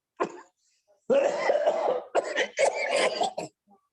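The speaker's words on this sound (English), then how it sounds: "did you hear me coughing?" A person coughs repeatedly in close, harsh bursts, one short cough followed by a longer run of rough coughing and throat clearing.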